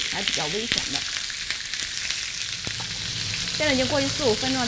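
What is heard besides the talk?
chicken legs frying in a pan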